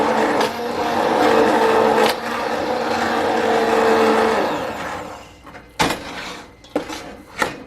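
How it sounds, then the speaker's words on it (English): An immersion blender whirs steadily through a pan of chopped yellow pear tomatoes for about five seconds, then cuts off, followed by a few sharp knocks and clatters. "all the tomatoes have been chopped up with your immersion blender"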